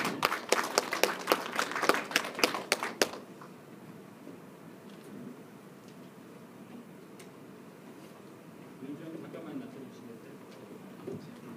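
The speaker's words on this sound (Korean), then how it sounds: "큰 박수로 맞아주시기 바랍니다." A brief round of clapping from a seminar audience welcoming the speaker at a tax-saving strategy seminar: sharp, distinct claps for about three seconds that stop abruptly, followed by quiet room tone with faint murmurs.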